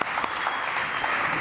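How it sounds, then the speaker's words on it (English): Audience at a blockchain conference claps steadily for the speakers, a dense, even round of applause filling the hall throughout. "So please give them a round of applause"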